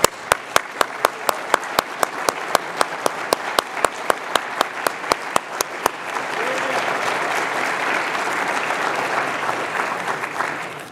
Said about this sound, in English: let's have another big round of applause for all of our recipients this evening